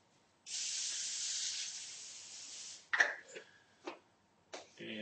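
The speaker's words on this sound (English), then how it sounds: "Then some more cooking spray." Cooking spray hisses from an aerosol can into a foil-lined baking pan in one steady burst of about two seconds, followed by a few soft clanks and taps.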